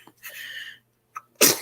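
Two sneezes: a soft breathy build-up followed by a short catch, then a second sharp, loud burst of a sneeze close to the microphone, in a quiet room.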